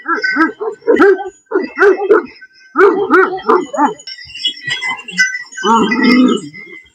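Turkish Güdük dogs bark and yip in rapid clusters nearby, mixed with whining and a snarling scuffle toward the end.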